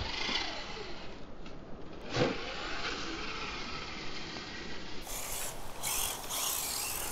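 A Traxxas Mini E-Revo VXL brushless 1/16 RC car on foam tires spins out off-road through leaves, a steady whining, rattling motor drone with scuffing, rising sharper near the end, no talk.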